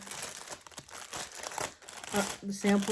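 Packaging crinkled by hand, loud close rustling and crackling in irregular bursts that continue throughout, with a person's voice briefly heard near the end.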